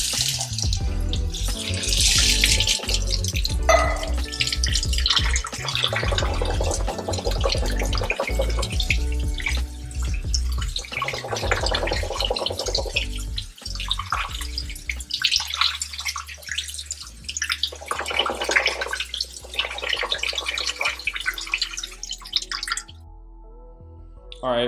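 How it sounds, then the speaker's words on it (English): Tap water pours steadily over black beans in a metal strainer at a kitchen sink, a loud continuous splashing rush that cuts off near the end, leaving a quiet tail. "and just run them under water."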